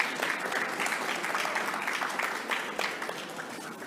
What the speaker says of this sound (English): look around the room and give yourselves a big round of applause